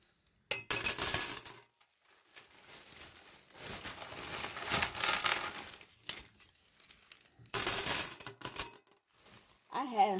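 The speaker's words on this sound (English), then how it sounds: "I'm going to grab one of my vases. And I think I'm going to go ahead and fill mine up with the stones." Glass stones clink and rattle as they are poured into a glass vase, several bursts of bright chinking separated by quieter shuffling, with a brief voice at the end.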